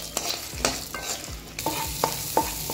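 Cashews and fox nuts roast in a kadhai, giving a soft sizzle with repeated scraping strokes from a stirring spoon, close and with no voices.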